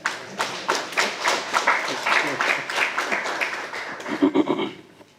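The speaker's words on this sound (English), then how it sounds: "Please, let's clap to welcome them." A workshop audience claps to welcome guests at an East African regional research workshop, a scattered, uneven round of hand claps building and thinning over several seconds, with voices murmuring underneath.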